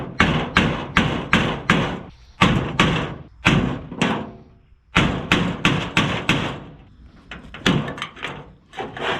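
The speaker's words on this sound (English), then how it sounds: "I'm just going to knock it loose with this screwdriver and hammer" Hammer driving a screwdriver against an old, stuck front main seal during an engine timing chain job, a run of sharp, close metallic knocks in bursts with brief pauses between groups.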